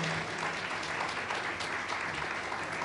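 Audience applause at a music school concert, a dense, steady wash of clapping from a crowd filling the whole stretch with no break.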